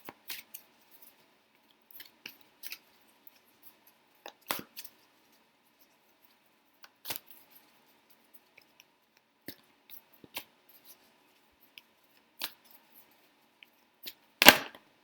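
Tarot cards are shuffled in scattered bursts of soft riffling and flicking, separated by near silence, and the sequence ends in a louder slap as a card drops out. No one speaks.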